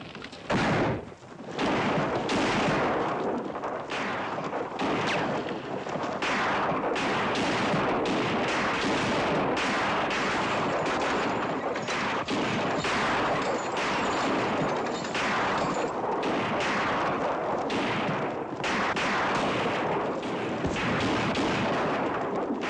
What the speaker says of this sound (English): When they open fire, we'll retreat and draw them out into the open.